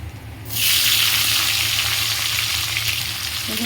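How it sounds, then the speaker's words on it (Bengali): Cumin seeds and bay leaf hit hot oil in a pan, bursting into a loud, steady sizzle after a quiet moment and holding strong to the end. "এবার তেলের মধ্যে জিরে ফোড়ন আর তেজপাতা দিয়ে দিয়েছি"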